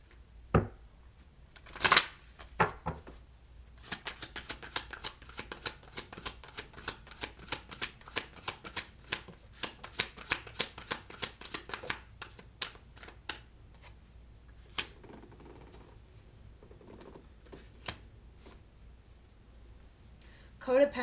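Oracle cards being shuffled close up, a long run of rapid crisp riffling clicks and flicks in bursts, with a soft voice talking faintly underneath.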